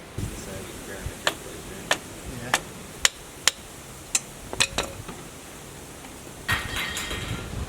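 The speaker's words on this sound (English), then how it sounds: "hammer it" Sharp metal hammer strikes on Nissan Maxima 6-speed manual transmission parts ring out at irregular intervals in a garage, a dozen or so distinct clanks with a scraping clatter near the end.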